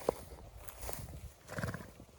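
A horse gives a faint, brief whinny, with a few soft hoof clops close by, all quiet.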